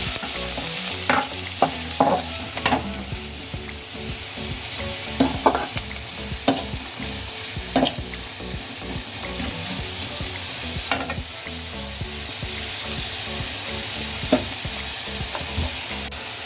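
Poha being stirred and fried in a pan with spice powder and salt, a steady sizzle broken by repeated scraping and clinking strokes of the spoon over about sixteen seconds, close and fairly loud with no talking.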